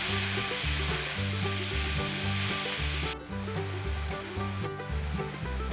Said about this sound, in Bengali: কিছুটা ভেজে আসার পর কুচনো লাল শাকগুলো দিয়ে দিল। এবার ভালো করে মিশিয়ে নিচ্ছে।